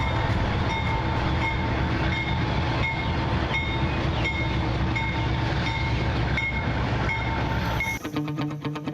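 A train on the Ferrocarril Central Andino in Peru, near San Bartolomé station, rumbles steadily with a loud, continuous rolling drone and faint rhythmic clicks, then shifts to a harsher metallic grinding near the end.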